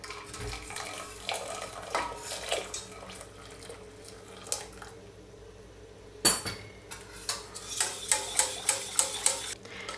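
A sweetened milk mixture is stirred in a pot, with irregular spoon scrapes and clinks against the metal, soft liquid sloshing, and a brisk run of taps near the end.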